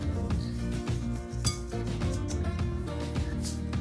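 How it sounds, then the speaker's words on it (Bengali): Cocoa powder, baking powder, baking soda and salt being sifted and mixed together in a bowl for chocolate muffins, giving steady close scraping and rubbing with repeated light metallic clinks over a loud continuous background. "তারপরে সবকিছু একসঙ্গে এরকম করে একটু চেলে মিশিয়ে নিতে হবে।"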